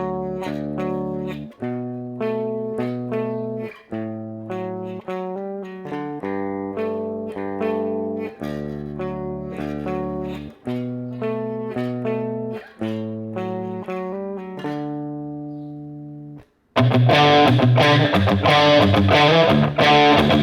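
A slow run through the intro of a song on electric guitar with an effects-laden tone, steady plucked notes in a repeating pattern, then a loud distorted strummed section kicks in near the end.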